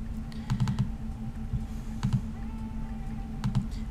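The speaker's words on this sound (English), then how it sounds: "I start typing it in" Fingers typing a search term on a computer keyboard in short bursts of clustered keystrokes separated by pauses, close and crisp over a faint steady hum.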